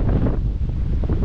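Strong outdoor wind buffets the microphone in a yard with a tree and lawn, a steady low rumble of gusts throughout, close and loud, with no talking.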